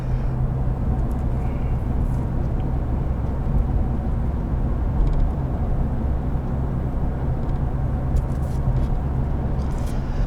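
Steady low rumble of a 2015 Nissan Frontier SV pickup truck heard from the cabin while driving, with road and engine drone constant throughout and no talking.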